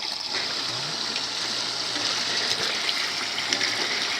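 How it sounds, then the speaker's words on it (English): Water gushes steadily from the 2-inch outlet pipe of a pond pump on an above-ground pond filter, a loud, continuous rushing splash heard up close with no talking. "it kicks out some water."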